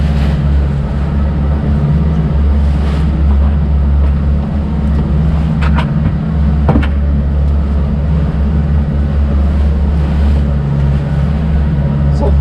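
A commercial shrimp trawler's diesel engine drones steadily as the boat heads offshore, a loud continuous low rumble with water and hull noise and occasional faint clanks.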